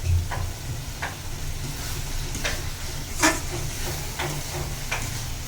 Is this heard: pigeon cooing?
no